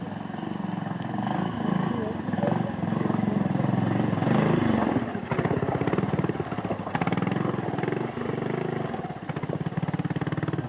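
A big Royal Enfield trials motorcycle labours over a rocky Scottish Six Days course, its engine popping and revving unevenly at close range while a commentator talks over it.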